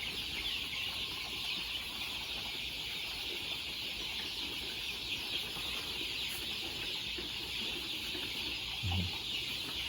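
Hardy three-breed crossbred chickens cluck softly in a farm pen, scattered low calls over a constant background hiss, with a brief flutter of wings near the end.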